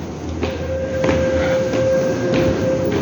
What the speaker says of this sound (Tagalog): May tren na naman